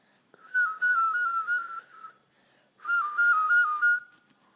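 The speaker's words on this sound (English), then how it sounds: "I'm gonna teach you how to whistle and make an L like this" A person whistles two sustained, clear notes close by, each lasting over a second with a slight wavering pitch, separated by a short silence.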